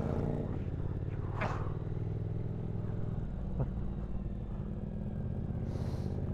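A Triumph Speed Twin 1200 motorcycle rumbles steadily nearby on a road ride, its exhaust a low continuous drone with faint wind and a couple of brief scrapes, no voices.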